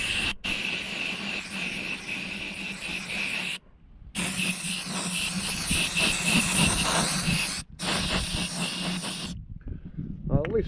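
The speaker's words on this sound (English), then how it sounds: "I have here a can of compressed air" A can of compressed air is sprayed into the xenon headlight electrical connections of a Cadillac BLS 2.8 V6 turbo, giving loud, harsh hissing blasts in several long bursts separated by short pauses.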